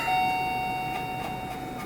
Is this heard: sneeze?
no